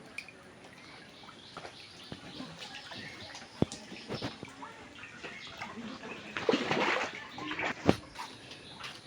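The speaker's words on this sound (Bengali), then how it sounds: "এই যে বাড়ি ঘরের ভিতরে ঢুকতেছে পানি।" Floodwater in Akhaura, Brahmanbaria, splashes and trickles into a village house in irregular bursts, with a louder surge near the end, over a soft background of faint bird calls.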